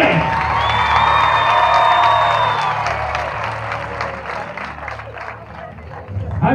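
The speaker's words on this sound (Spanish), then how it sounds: "Le damos este fuerte aplauso" Applause and cheering from the crowd at a recortes exhibition in Villares de Yeltes, a broad wash of clapping with whoops and murmuring voices that swells early and gradually thins.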